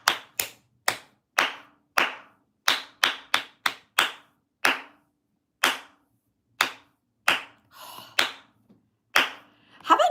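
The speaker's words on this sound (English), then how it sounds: "So we're gonna go ahead and clap that now." Hands clap a rhythm along to a song, roughly twenty sharp, loud claps in an uneven pattern, some in quick pairs, with a brief rustle between them.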